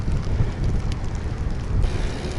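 Rain and gusting wind rush steadily past a rider out on the road on a rainy day, a dense broadband roar with buffeting microphone noise and no speech.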